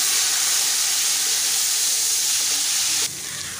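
Browned onions fry loudly with ginger garlic paste as they are stirred in a pan for chicken and chickpeas, a dense, steady sizzle that drops suddenly to a softer hiss near the end, with no voices.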